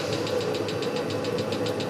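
A Webasto diesel heater runs with its fuel pump ticking at about eight rapid, even clicks per second over the steady whir of its fan at high speed, close and fairly loud.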